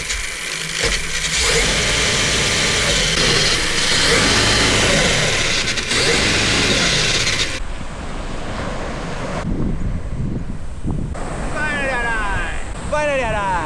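A Kyosho KC10 Land Cruiser RC car with a HobbyWing 3300KV motor runs outdoors amid heavy wind rumble, its electric motor whining and rising in pitch near the end, with a voice talking during the run.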